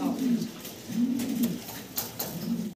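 Fancy pigeons cooing in repeated low, throaty rolling calls, several overlapping phrases, close and steady with faint background rustle.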